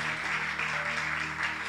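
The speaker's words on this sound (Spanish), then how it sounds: "Dale un fuerte aplauso." A church congregation applauding loudly and continuously, a dense wash of clapping from many hands that fills the room without pause.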